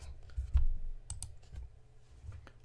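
Light tapping of keys on a computer keyboard, a short irregular burst of soft clicks over a low background hum.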